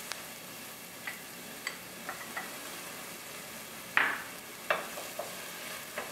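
Chopped onion sautéing in a couple of tablespoons of olive oil in a saucepan, a soft steady sizzle marked by occasional light stirring taps and one sharper scrape, with no talking.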